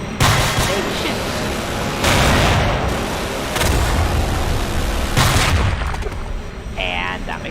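A naval CIWS close-in weapon system fires in Garry's Mod, long loud rapid-fire bursts separated by brief pauses, with a voice talking over parts of it.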